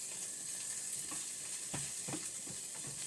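Onions browning and caramelizing in a hot pan with eggs nearby, a steady sizzle broken by a few soft scrapes and stirs, close and moderately loud, with no talking.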